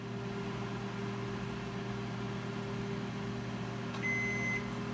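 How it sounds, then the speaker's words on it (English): An 1100 watt microwave oven runs with a steady low hum and faint whir, constant and quiet, with a short high beep near the end. "This is an 1100 watt microwave, so we're going to set that in just like that for 3 minutes."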